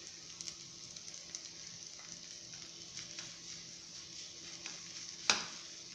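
Spiced egg curry being stirred in a pan, with a soft, steady sizzle and faint scraping of the spoon, plus one sharper clink near the end; quiet and close, with no talking.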